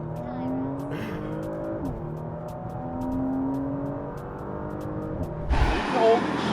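Porsche Macan GTS pulling hard under launch control, a steady engine drone with rising harmonics as it accelerates through the gears, heard from inside the cabin, ending in a louder burst of noise.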